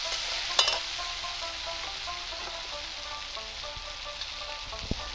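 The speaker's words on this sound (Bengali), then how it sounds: "জলটা দিয়ে আমি মশলাটাকে ভালোভাবে কষিয়ে নেব যতক্ষণ না মশলার গা থেকে তেল ছাড়ে" Spice paste sautés in oil with a little added water for a tengra fish tel jhal, giving a steady close hiss and sizzle with a sharp clink near the start and a few faint taps.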